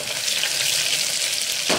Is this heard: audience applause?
no